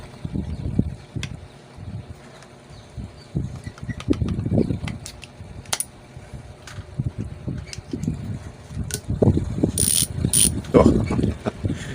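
HASSNS PRO7 bicycle freehub fitted with an added spring, its ratchet pawls clicking in irregular bursts of sharp ticks over a low mechanical rumble, fairly close and moderately loud throughout.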